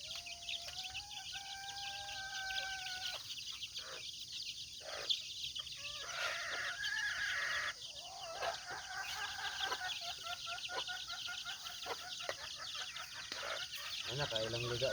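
Chickens and cockerels cluck and call during a morning feeding on a small farm, with overlapping bird sounds throughout amid steady outdoor background noise and someone talking intermittently.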